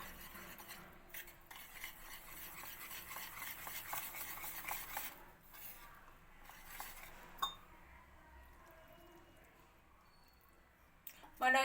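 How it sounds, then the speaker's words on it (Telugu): A spoon stirs a cake mixture in a pan to work out the lumps, giving faint, quiet scraping with scattered light clinks against the metal, and a soft voice murmurs underneath. "లంప్స్ లేకుండా కలిపేసుకోండి"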